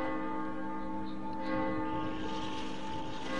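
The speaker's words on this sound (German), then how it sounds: "Die Glocke, sie zieht sie an." A bell rings in the horror video game The Evil Within DLC, a sustained droning toll with long overlapping tones over a low hum and no voices.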